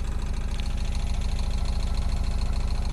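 Diesel van engine idling while running purely on cooking oil, a steady low rhythmic chug with a slight knock, close and continuous throughout.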